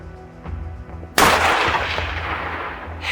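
A single close, loud rifle shot fired at a mule deer buck 203 yards away, a sharp blast followed by a long rolling echo that fades over two seconds.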